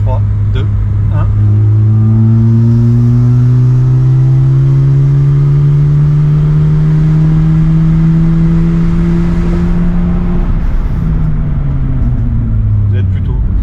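Peugeot 106 Quiksilver with a cone intake, heard from inside as it accelerates through the gears, with rising engine drone, strong induction roar and exhaust note, loud and close, with brief talk near the start.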